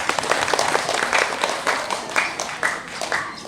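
Audience applause at an Indonesian Dharma talk gathering, steady dense clapping from a crowd lasting throughout, fairly close and loud, with no speech over it.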